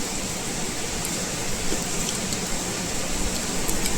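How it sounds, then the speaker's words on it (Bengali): Heavy rain pours steadily and close, a dense, even hiss of drops beating on surfaces with no pauses across the whole stretch. "আমাদের এদিকে তো প্রচণ্ড ভারী বৃষ্টি হচ্ছে।"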